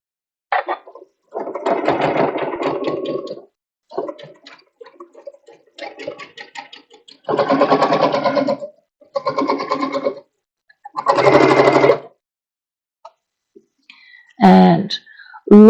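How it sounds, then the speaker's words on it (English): A sewing machine stitching a hem on a cutwork pillowcase in short, stop-start bursts of whirring, close and fairly loud, with quiet pauses and a few clicks between runs. "look at what a beautiful, perfect little hem the machine is doing"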